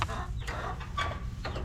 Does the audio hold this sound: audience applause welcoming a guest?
no